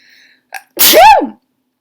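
A single loud, close sneeze bursts out after a brief intake of breath, with no talking around it.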